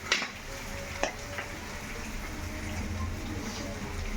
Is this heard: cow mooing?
no